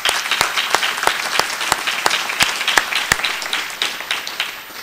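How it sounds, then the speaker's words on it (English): A room full of people gives graduates a round of applause, an even burst of clapping that rises early and then tapers off slightly. "How about a round of applause for those guys?"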